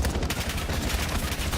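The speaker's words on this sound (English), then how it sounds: "I don't think you could be under any more gunfire if you tried" Dense, continuous gunfire from a Call of Duty match, rapid overlapping shots and bursts with no pause, loud and close throughout.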